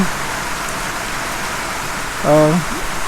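Steady rain falls outdoors under dark clouds ahead of a hurricane, a dense continuous hiss filling the scene, with a brief voiced sound near the end.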